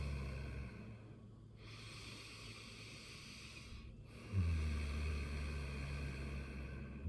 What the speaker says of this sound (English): So you're breathing through the nose, slow, deep breaths.